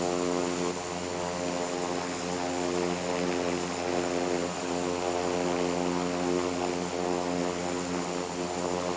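A Flybe airliner's engine in the flight simulator game Infinite Flight drones steadily in cruise, a constant tonal hum with layered harmonics and no breaks, with no talking.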